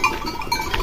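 Goats out in the bush give a short burst of bleating, several overlapping calls close by and fairly loud, over about a second with no talking.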